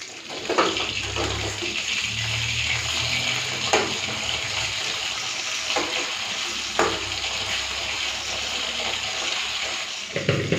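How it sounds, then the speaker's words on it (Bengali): Pieces of Bhola fish fry in a pan, making a continuous hiss with a few scrapes and clunks as they are turned, and a watery wash sound in the background. "এবারে চলুন মাছ ভাজাটা একটুখানি উল্টিয়ে দিই"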